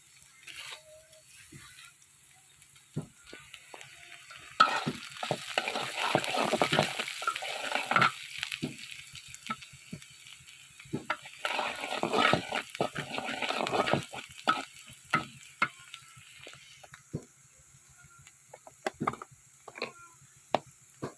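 Sliced bitter gourd fries in oil in a covered pan, giving scattered crackles and short bursts of sizzling with occasional clinks and clatter, fairly close, with quiet gaps between bursts.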